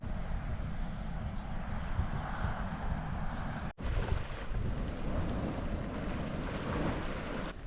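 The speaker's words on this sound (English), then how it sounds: "It is boiling so ferociously right now. It's creating many waves." Boiling hot spring in Yellowstone churning violently, a continuous loud rushing, roiling water noise with heavy wind buffeting the microphone, steady throughout apart from a brief dropout midway.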